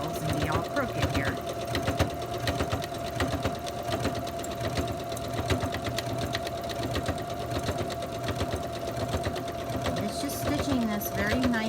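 A sewing machine hums and chatters continuously while stitching quilt sashing in a quilt-as-you-go project, close and steady, with someone talking over it at times.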